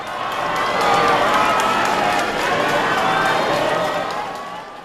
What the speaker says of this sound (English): Thousands of people lined the streets, clapping and bowing to pay him a final tribute as his hearse drove by.